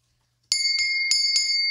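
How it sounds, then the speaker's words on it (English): A bell rings four times in quick succession after a brief silence, each strike bright and metallic with a ringing tone that lingers between hits. "Ring that bell."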